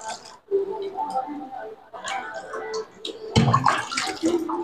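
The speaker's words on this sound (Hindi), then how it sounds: "अब इसमें हम लोग पानी में डाल देंगे।" Water poured into a bowl of salt while preparing a brine for soaking potatoes, a broad splashing, gurgling pour that grows louder toward the end, close by and heard alone.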